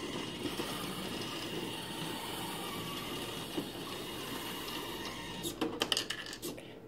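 A smart desktop medicine organizer dispenses an orange M&M candy with a steady mechanical whirring hum, ending in a few quick clattering bursts near the end as the piece drops out.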